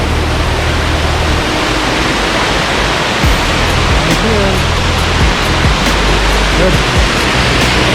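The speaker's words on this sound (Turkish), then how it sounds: "Burası küçük şelale." Small waterfall pouring in an outdoor nature spot, a steady broadband rush of falling water that fills the whole scene at close range, with faint low thumps underneath and no clear speech.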